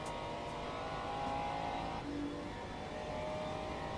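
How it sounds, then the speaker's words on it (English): A Ferrari race car engine drones steadily at close range in a racing video game set at Circuit of the Americas, its pitch shifting around a couple of gear changes, loud and continuous throughout. "Listen to this Ferrari. I don't know, the gear shifting sounds a bit weird"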